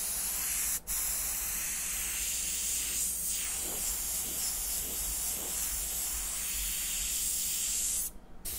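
Red paint sprayed onto a custom Jeep dash makes a loud, continuous close-up hiss that holds nearly unbroken, with a brief dropout near the start and another near the end, and no voices.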